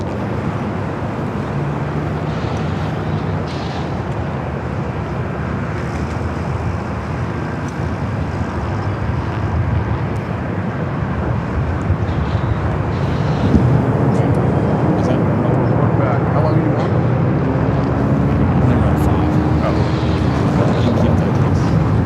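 An airliner arrives on runway 4 right at Los Angeles International Airport, a steady broad roar with wind buffeting while a voice talks over it throughout.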